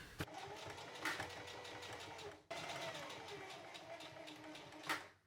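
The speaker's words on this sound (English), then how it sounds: "So I think I'm honestly gonna sew it down here." A sewing machine stitches a label down with a steady mechanical whirr in two runs, split by a short break, fairly faint and close, with a voice talking over it.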